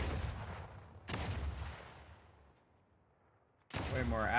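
Two sharp pistol shots crack out in The Outer Worlds 2, each followed by a long fading tail, spaced a few seconds apart, with speech starting right on top of the second shot.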